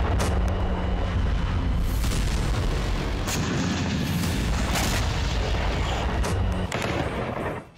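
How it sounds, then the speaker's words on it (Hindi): Heavy artillery fire and explosions from Russian shelling in Ukraine, a dense, continuous barrage of loud booms and blasts with sharp bursts, sustained throughout with no speech. "यूक्रेन पर रूस की बारूदी आतिशबाजी।"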